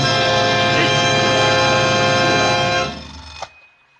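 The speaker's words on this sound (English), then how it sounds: "Turn it off, will you? Turn the alarm!" An alarm clock used as a sound effect in an old-time radio suspense drama rings loudly and continuously for about three seconds, then abruptly cuts off with a faint click.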